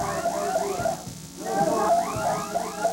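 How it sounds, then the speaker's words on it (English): An alarm set off inside a building during a tense protest standoff wails in repeated rising and falling electronic sweeps, loud and continuous, with a brief dip in the middle. "Workers inside the building trigger an alarm."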